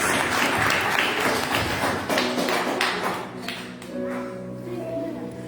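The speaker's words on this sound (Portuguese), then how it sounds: "Dê uma linda salva de palmas para nossa Deus" Congregation applauding in an Avivalista church service, a dense wash of clapping that thins toward the end as music or sustained tones emerge underneath.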